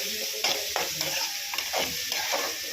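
Onions, mustard seeds and curry leaves sizzle in hot oil in a pan. The crackling fry runs continuously, with irregular scrapes and stirring clatters from a spatula breaking through every half second or so.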